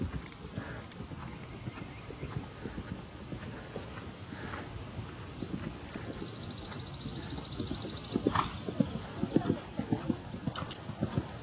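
Horse hooves cantering on soft ground in a steady rolling rhythm, growing louder and closer toward the end, with faint voices in the background.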